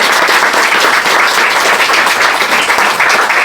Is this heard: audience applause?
yes